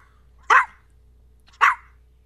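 A dog gives two sharp, separate barks about a second apart, each loud and close against an otherwise quiet background.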